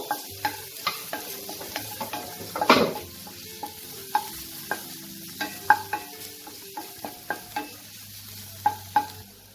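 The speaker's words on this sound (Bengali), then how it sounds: "গার্লিকটা দিয়ে আমি কিছুক্ষণ নাড়াচাড়া করব" Crushed garlic is stirred in a frying pan with butter, giving a steady low sizzle under repeated scraping and tapping strokes from a utensil, close and fairly loud throughout, with one sharper clatter partway through.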